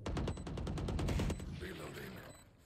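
Rapid bursts of gunfire shot through a wall in the tactical shooter Valorant, played on PS5, crackle loudly in a fast volley for over a second, then fade into quieter game ambience with a voice faintly underneath.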